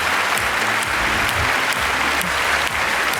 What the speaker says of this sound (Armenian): Եկեք մեր կանանց մի հատ ջերմ ծափահարենք